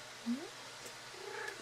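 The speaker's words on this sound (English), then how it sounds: "That's my cat." A domestic cat gives a short, soft meow indoors, followed by a faint low purr-like murmur, close and quiet.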